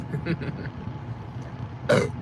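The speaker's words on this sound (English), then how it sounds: "Excuse me on the burp." A short, loud burp near the end, from someone who drank soda about twenty minutes earlier, rising over a quiet indoor background after a few faint earlier sounds.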